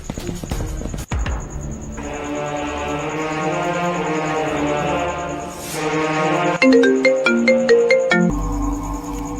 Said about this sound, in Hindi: फोन आ रहा है घर से, उसको पहले फोन देते हैं।